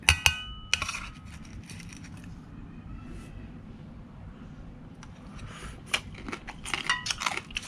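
Close crunching and crackling bites of crispy battered fried crab come in bursts, with quieter chewing and faint background hum between them.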